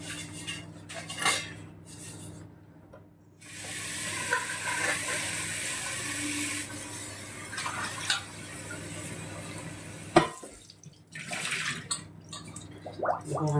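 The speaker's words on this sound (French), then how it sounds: "va rincer un petit peu parce que ça fait longtemps que je ne me suis pas servi." Water running from a kitchen tap over a patterned cake mould as it is rinsed, a steady splashing wash with light clinks of the metal pan, close and fairly loud with no talk.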